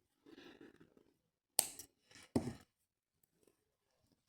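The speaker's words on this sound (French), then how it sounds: "Et maintenant je peux couper mon fil." Scissors cutting yarn for a kawaii avocado craft, with two sharp close snips in quick succession after some soft handling noise, then near silence.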